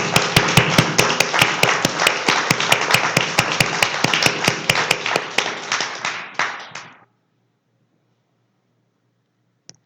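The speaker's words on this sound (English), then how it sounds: "Let's give a round of applause." A church congregation at a spiritual living service applauds together, a steady, close run of clapping that carries on for several seconds, then thins out and stops abruptly into silence.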